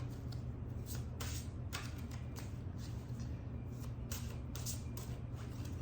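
An oracle card deck is shuffled by hand, giving soft repeated riffling bursts in an irregular rhythm close by, over a steady low hum with no talking.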